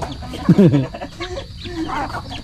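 Chickens on a backyard Philippine farm cluck in a short burst of several close, fairly loud calls, followed by fainter clucks amid outdoor ambience.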